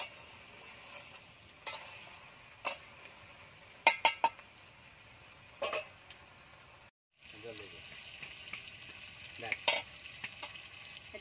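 Meat and capsicum sauté in a pan with a soft continuous sizzle, broken by sharp clinks and scrapes of a spatula stirring against the pan, with a brief silent gap midway.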